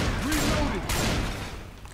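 Rapid gunfire from shooting zombies in Left 4 Dead 2, loud and continuous across the clip, with overlapping bursts and voices shouting underneath.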